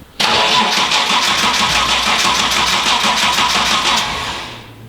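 A rally car engine cranks and catches at once, then roars at a loud, steady rumble close by before easing down slightly at the end.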